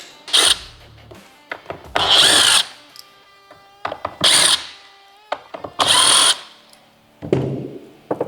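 A power driver backs out four T25 screws on a 2014-2023 Harley-Davidson Street Glide, making short, loud whirring bursts close by, separated by quiet gaps, with no talking.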